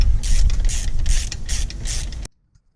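A ratchet works a 12mm bolt loose on a 2008 Subaru Impreza engine during head gasket work, rapid loud close clicking strokes in a steady rhythm for about two seconds before stopping abruptly.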